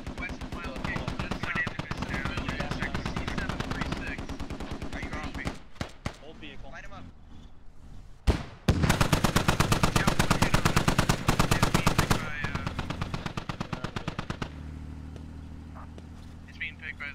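Sustained automatic gunfire in the tactical shooter Squad rattles in long rapid bursts aimed at an MRAP armored vehicle, with a sharp heavy blast midway and further volleys after, all close and loud, with voices speaking over the fight.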